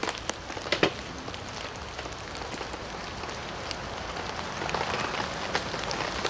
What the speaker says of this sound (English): It's still raining, but it's nowhere near as bad as it was.